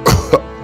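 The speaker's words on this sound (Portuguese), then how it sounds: "quando tosse, Hulk desaparece" A short, close cough from the Hulk character in the video game GTA 5, two loud bursts within under a second.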